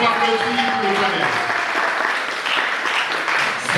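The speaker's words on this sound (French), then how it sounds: "Est-ce qu'on m'applaudit pour le panel?" Loud, sustained applause from an audience for a conference panel fills the room, dense clapping continuing evenly with a voice faintly over it at the start.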